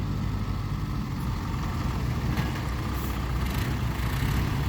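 A tractor engine idles in a field, a continuous low rumbling drone that holds steady and fairly close throughout, with no talk.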